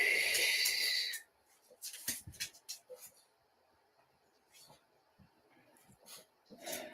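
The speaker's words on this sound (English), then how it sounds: "I need you all to exhale right now." People exhaling deeply together during a guided meditation session, a long breathy rush of air at first followed by softer scattered breaths and small sounds in a quiet room.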